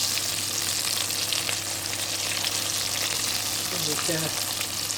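Chicken wings fry in hot oil with a steady, dense sizzle that fills the whole stretch, while a voice speaks briefly near the end.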